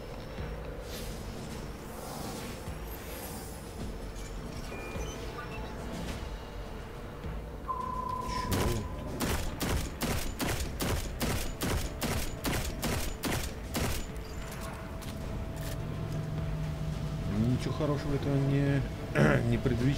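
Rapid bursts of gunfire in Destiny 2, a dense run of sharp repeated shots in the middle, mixed with game music, effects and someone talking.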